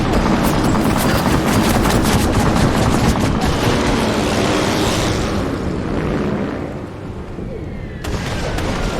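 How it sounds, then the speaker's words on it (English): Sustained heavy gunfire fills a World War I Zeppelin battle in Assassin's Creed Syndicate as escorts are shot down, with dense rapid bursts that are loud and continuous before easing slightly, and voices are barely present. "We won't damage the Zeppelin from here, but we can shoot down their escorts."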